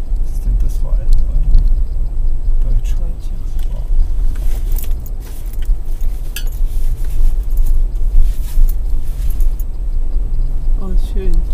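A Jeep camper rolls downhill on a mountain road in Slovenia, with a steady low engine and road rumble throughout and small clinks of loose items rattling inside the cabin.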